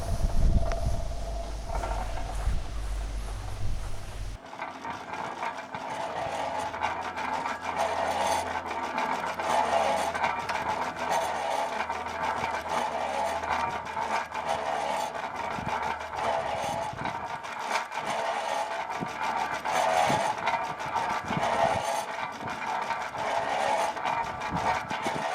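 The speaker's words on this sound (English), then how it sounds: "we then take hold of the sprinkler on the wheels and then we'll pull it out of the machine" Leader 25 reel irrigator as its wheeled sprinkler cart is pulled out, a steady mechanical whirring and rattling of the hose reel running continuously, loud and close, after a brief low rumble at the start.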